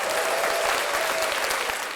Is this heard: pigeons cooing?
no